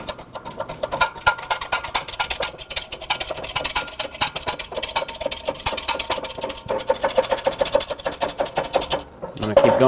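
A hydraulic press drives a wheel hub into a new front wheel bearing from a 2012-2017 Toyota Camry, with rapid rhythmic clicking and ratcheting as the hub is spun and pressed, ending in a louder clunk.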